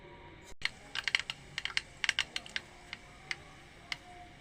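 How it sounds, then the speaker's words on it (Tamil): Mustard seeds pop and crackle in a small amount of hot oil, giving a quick run of sharp, irregular clicks that cluster together and then thin out, close and clear with no talking. "கடுகு பொரிஞ்சு வந்துருச்சு."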